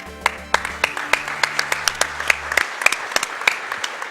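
Scattered, uneven hand claps from a small audience at the Summer Games Done Quick 2015 speedrun marathon, individual sharp slaps ringing out over a fading electronic game tune.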